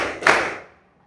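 A single sharp burst of clapping from a class playing a rhythmic hand-clapping game, one loud clap that quickly decays to silence.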